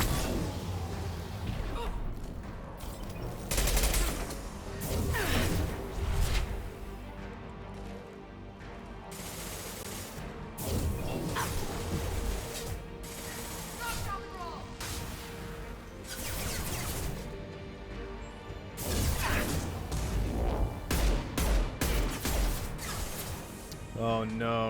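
Gunfire and impacts from the video game Mass Effect 2 crack in irregular bursts amid combat noise and music, moderately loud, with a voice talking over parts.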